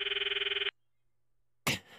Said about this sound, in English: I stop the video and call Mayuri's phone from my address book.